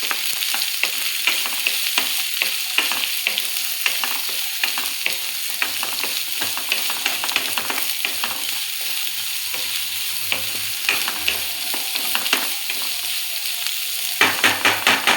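Fresh peas and sweet corn being stir-fried in a pan, a loud steady sizzle with frequent scraping clicks of a spoon stirring and mixing throughout.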